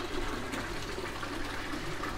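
Water poured back into a fish tank in an aquaponics setup, a continuous rushing gush of liquid, steady and fairly close, with rain adding to the wash of sound.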